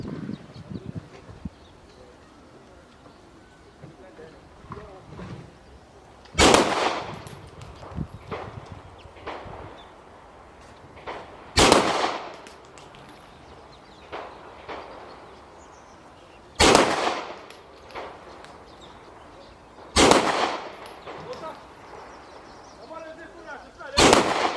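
Pistol shots from a Canik P120 firing SNB ammunition at an outdoor range, five loud sharp reports spaced about five seconds apart, each standing well above faint background noise.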